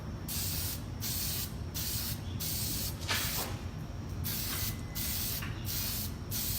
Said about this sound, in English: spray it on there evenly. Try to get it down in the grooves some.